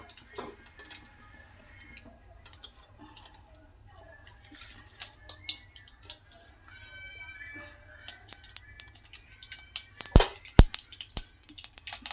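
Mustard seeds spit and crackle in hot oil in a kadhai, sparse light ticks and pops at first that grow denser and sharper toward the end, with faint talking in the background.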